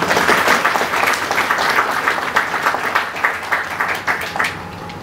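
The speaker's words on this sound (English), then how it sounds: "Now we can clap." Wedding guests burst into clapping after a minister presents the newly married couple, a dense, steady round of applause from a crowd in a church setting, loud and sustained throughout.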